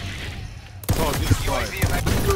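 Gunfire in the Call of Duty Black Ops 4 video game: a sudden burst of rapid shots after a quiet moment, followed by several more sharp cracks scattered through a busy, noisy mix.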